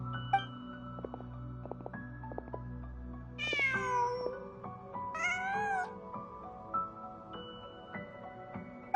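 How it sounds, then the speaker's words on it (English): Cat meowing in the video game Genshin Impact, two distinct meows partway through over soft game music with chime-like tones. "Just a cat."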